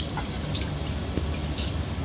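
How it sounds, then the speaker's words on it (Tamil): Soaking water is poured off soaked moong dal and fresh water is added, giving a steady close splashing and trickling of liquid with small drips throughout. "அந்த தண்ணியை ஊற வச்ச தண்ணியை கீழே ஊற்றிட்டு நம்ம வேறு"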